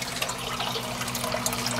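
Water from an aquarium filter spout spills down as a small continuous waterfall, giving a steady, close splashing trickle with no break over the short clip.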